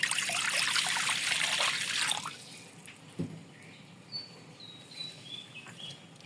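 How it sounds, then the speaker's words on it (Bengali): One cup of water pours into a wok on a stove for tutti frutti, a steady splashing rush for about two seconds, then stops, leaving a quiet room with scattered drips and a faint high chirping. "এখানে কড়াই দিয়ে দিয়েছি চুলায়, আর দিয়ে দিব 1 কাপ পানি।"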